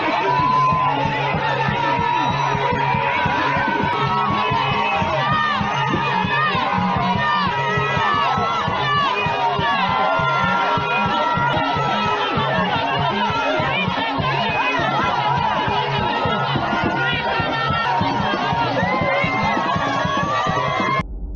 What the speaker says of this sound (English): As the crowd continues to roar